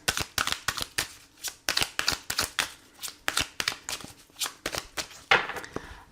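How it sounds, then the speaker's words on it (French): Oracle cards are shuffled by hand in quick, crisp riffling bursts, a dense rapid run of papery slaps and flutters, close and loud with no voices. "on va prendre quelques cartes pour voir ce qu'il vous dit"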